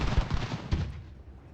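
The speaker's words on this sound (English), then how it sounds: "shooting at skirmishers with artillery is not the best use of it" Artillery fire in the strategy game Ultimate General: Revolution, a quick cluster of booming shots rolling together at loud volume, then fading away into a short tail.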